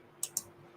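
Two quick crisp clicks from a computer keyboard, close and distinct, spaced a split second apart over a quiet background.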